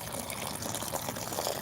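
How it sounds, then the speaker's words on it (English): A garden hose sprays water steadily onto plants, a continuous close hiss and patter with no pauses. "So we're just going to keep watering until we run out of time."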